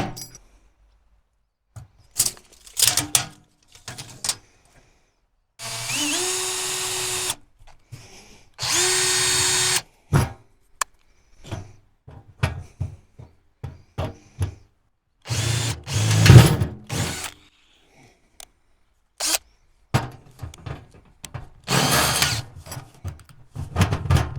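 Short bursts of a power drill with a slightly bent bit whirring, stopping and starting, with a couple of longer sustained runs amid clicks and handling noises.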